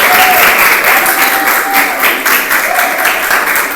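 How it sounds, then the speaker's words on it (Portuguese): Steady audience applause at a lecture about the path from high school to USP, dense and sustained throughout, with a faint tone threading through at moments. "Então eu peço uma salva de palmas para o Daniel"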